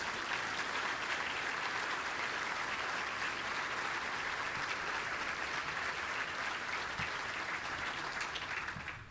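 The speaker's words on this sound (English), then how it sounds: "how about a hand of applause for all of those sailors and Marines?" Conference audience applauding for sailors and Marines at a defense industry event, sustained even clapping filling the hall, moderately distant and continuous for several seconds.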